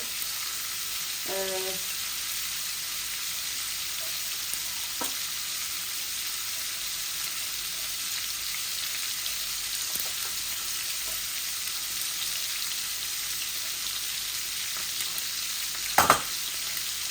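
Dry spices frying in a pot for a Bangladeshi meat and flat-bean bhuna, a steady soft sizzle running throughout with a few faint clinks and one sharp knock near the end.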